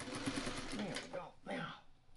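A sewing machine stitches along the edge of a quilt carrier, its quiet whir running under close conversational speech.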